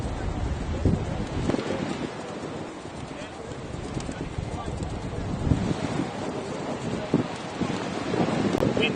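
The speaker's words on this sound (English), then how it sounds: "Wind certainly picking up here." Gusty wind buffets the microphone outdoors at a cricket match, a constant rough rumble with irregular thumps throughout and no clear voices.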